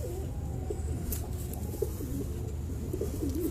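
Teddy and golden dove cross pigeons coo steadily in a series of rolling low calls, close by over a constant background rumble.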